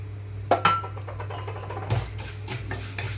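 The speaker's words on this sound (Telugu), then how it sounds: "ఇంకొక స్పూన్ వరకు ఇందులోకి సేమియా వేసి వేయించుకుంటున్నాను" Vermicelli frying in ghee in a pan, soft crackling under a low hum, with sharp metal clinks of a spoon against the pan and intermittent stirring scrapes.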